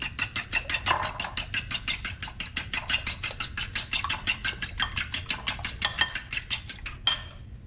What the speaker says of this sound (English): Break the yolk and whip them up a little bit.